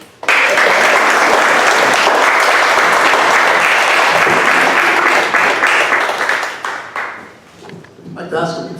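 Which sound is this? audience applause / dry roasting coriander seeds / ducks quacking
audience applause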